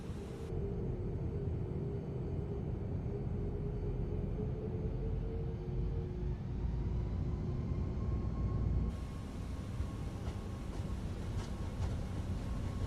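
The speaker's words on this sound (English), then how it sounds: "That's the engine sound." Airbus A340-600 engines in Microsoft Flight Simulator 2024 at Toulouse, a steady loud broadband roar and hum that continues throughout, with a shift in tone partway through as thrust changes.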